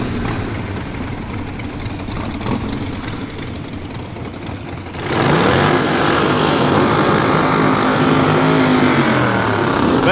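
A Harley-Davidson Sportster group ride with a Benelli 702 TRK, engines droning steadily on a Peak District road, with wind rush that swells sharply louder midway and stays strong to the end.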